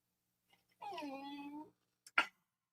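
A dog gives a single drawn-out, tonal whine lasting about a second, then a brief sharp noise follows in otherwise quiet surroundings.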